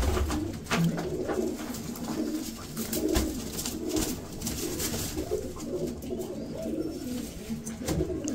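Pigeons cooing close by, soft repeated throaty coos overlapping in a steady rhythm, with faint background noise and no talk.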